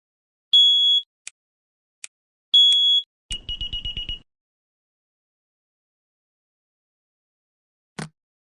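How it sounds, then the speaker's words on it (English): An alarm in the video game Nobodies: Silent Blood shrills in bursts: two long piercing tones, two quick blips, then a rapid stuttering run of short beeps, followed by silence and one last sharp chirp near the end. "Crap, the alarm's going off."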